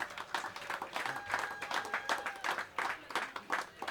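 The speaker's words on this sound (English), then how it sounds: "Let's give them both a round of applause." A round of applause for two poker players at a tournament aboard a cruise ship, modest clapping from a small group, fairly faint and sustained for a few seconds.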